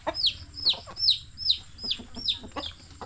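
Chickens given as a gift cluck repeatedly, about six sharp calls in a steady rhythm, close and fairly loud, with a faint murmur of farmyard background underneath.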